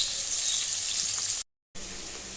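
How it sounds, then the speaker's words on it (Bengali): Fish frying in a pan, a loud steady hiss and crackle of hot oil close by, broken by a brief silent gap before the sizzling resumes. "আর মাছ ভাজা হচ্ছে"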